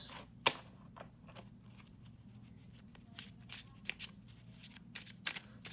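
A deck of playing cards overhand shuffled by hand, a run of soft quick riffling flicks and slaps close by, repeating in irregular bursts with no talk.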